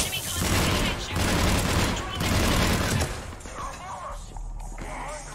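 Rapid bursts of automatic gunfire in the video game Mass Effect 3, loud and dense for about three seconds, then sparser shots and impacts under faint voices.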